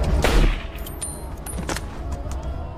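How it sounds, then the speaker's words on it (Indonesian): Gunfire in a war film about Turkish troops: a heavy opening blast gives way to scattered sharp shots and rattling bursts, loud and close. "ia tak sungkan menembak sampai terbunuh"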